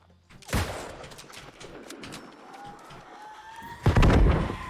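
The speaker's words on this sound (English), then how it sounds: "Okay, the explosion's not that big." A barrel blows up in the New World MMO video game, a sharp blast followed by a fainter rumbling stretch and a second, louder burst near the end, with no talk over it.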